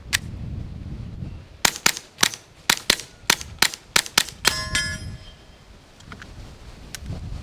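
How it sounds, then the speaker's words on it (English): Brand-new Glock G44 .22 LR pistol with a Glock threaded barrel, fired at a shooting range. About ten sharp, close cracks come in a quick, steady string, then there is a pause and a few faint distant shots. "shooting a new Glock G44 22 long rifle with the Glock threaded barrel on it"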